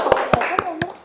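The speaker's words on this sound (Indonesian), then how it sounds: "Tepuk tangan dulu dong untuk kelompok" A classroom claps for a student group: four sparse, distinct hand claps spaced evenly, close and fairly loud, with a faint voice between them.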